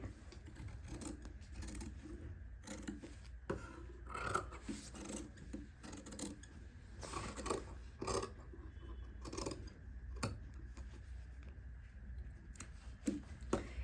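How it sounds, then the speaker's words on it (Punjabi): Scissors snip and rasp steadily through warm suit fabric around a neckline, a close, continuous run of cutting and rubbing strokes with no speech. "ਬਾਕੀ ਗਲਾ ਕੱਪੜਾ ਜਿਹੜਾ ਵਿੱਚੋਂ ਆਪਾਂ ਇਸ ਤਰ੍ਹਾਂ ਕੱਟ ਕਰ ਦਾਂਗੇ"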